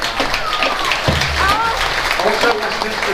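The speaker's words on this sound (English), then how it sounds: "Let's give them a big round of applause." Audience applause at the Lawrence County band festival, a broad wash of clapping with a voice and other crowd sounds mixed in over it.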